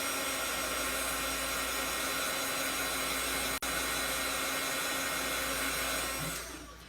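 A heat dryer blasting steadily to dry chalk paste on a craft transfer, a loud continuous roaring whoosh with a momentary cut-out midway, fading as it switches off at the end.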